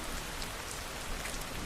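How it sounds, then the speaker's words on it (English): Steady gentle rain falls on a surface, a dense, even patter of drops with no pauses and no voices. "Listen to the sound of the rain gently falling in the background."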